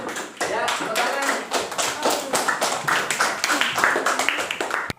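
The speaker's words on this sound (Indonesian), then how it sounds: "Ya, tepuk tangan." A fifth-grade classroom of students claps together in dense, continuous, slightly ragged applause that fills the room throughout, loud and close.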